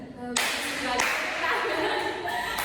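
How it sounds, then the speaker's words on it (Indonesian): Applause from a group, likely a school class, breaks out suddenly and continues steadily, a dense wash of claps close by with voices mixed in. "Ya, tepuk tangan."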